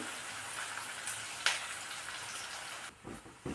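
Upma rava (semolina) dry-roasting in a pan until it changes colour, a soft continuous hiss and crackle up close with one sharp scrape partway through.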